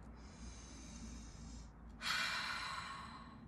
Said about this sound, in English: Rub your hands, sit up tall, take a deep breath.